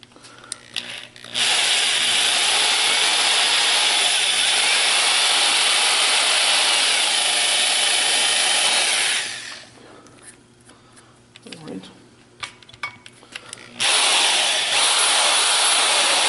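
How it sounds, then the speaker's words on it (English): A power drill bores holes through cast iron in two long, steady whining bursts separated by a quiet pause filled with small clicks and handling noises, close and loud. "let's drill a couple more"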